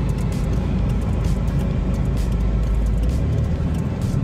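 Inside a car rolling through traffic in the free trade zone of Ciudad del Este, Paraguay, a steady loud low engine and road rumble continues throughout with no talk.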